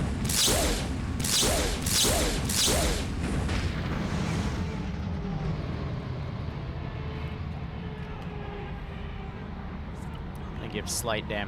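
Gunfire aimed at a panzer in a Stargate-themed military video game: a burst of four heavy, evenly spaced booming shots up front, then a long rumbling tail of low battle noise with a few faint cracks near the end.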